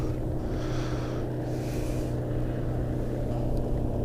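A passing motorboat engine drones steadily nearby on the water, with a low hum and some wind; brief splashy hiss in the middle.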